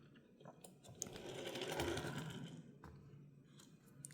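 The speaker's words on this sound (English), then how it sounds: "Let's do a roll test and see how it rolls." A Hot Wheels Monster High toy car rolls along a surface with a soft, faint whirring rumble that swells and fades over a few seconds, close by and without voices.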